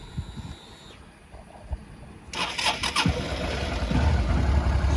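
A 2007 Suzuki V-Strom 650 motorcycle with about 38,000 miles cranks briefly, fires up and settles into a steady, loud idle, close by with no talking.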